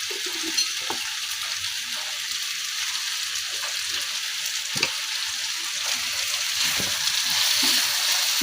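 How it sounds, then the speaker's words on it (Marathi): Cooked eggplant bhaji is mixed with crushed peanuts in a pan, making a constant hissing sizzle with occasional soft scrapes and taps of a spoon, close and even throughout. "मिक्स करून घ्या."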